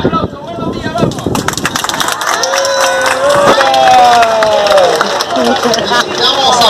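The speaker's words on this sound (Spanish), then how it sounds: "mira el aplauso" A crowd at an aquarium show in El Rodadero, Santa Marta, Colombia claps and cheers while a presenter keeps talking over the noise; the clapping and voices stay loud and continuous.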